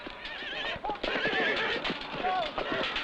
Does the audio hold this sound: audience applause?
no